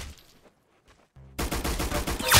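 Gunfire in the Roblox game Arsenal, with a few sparse shots early, then a brief gap before a loud rapid burst of automatic fire that continues to the end.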